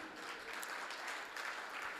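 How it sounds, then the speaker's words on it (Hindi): Audience applause at a Hindi poetry recital, a kavi sammelan: steady, fairly soft clapping from a crowd lasting two seconds without a break. "तब भी पंकज भैया के संचालन में पढ़ता हूँ, तो चाहता हूँ उनके लिए भी जोरदार तालियां हो जाएं।"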